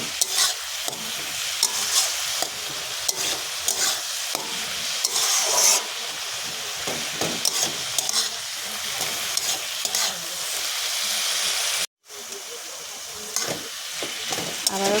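Bottle gourd simmering with milk in a pan is stirred repeatedly, with a steady soft sizzle and scraping running throughout.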